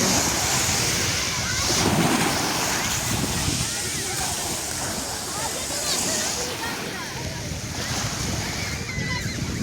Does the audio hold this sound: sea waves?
yes